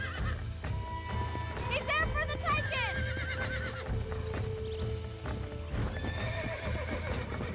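In the video game Red Dead Redemption, a horse whinnies in a sharp rising-and-falling call while its hooves clip-clop steadily, with someone talking over the sounds.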